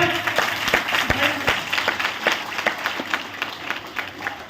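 Church congregation clapping in irregular bursts at a gathering, sharp hand claps scattered across a steady crowd murmur, fairly close and moderately loud.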